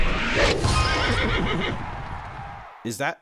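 Horse neighing in the Photo Finish Horse Racing video game: a short, loud whinny that bursts out alone after a stretch of busy, continuous talk.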